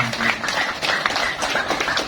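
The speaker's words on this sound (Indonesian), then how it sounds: "tepuk tangan buat Pak Pato Handoyo" An audience at an Indonesian restaurant-show event claps together in a dense, steady burst of applause that fills the whole moment at close range.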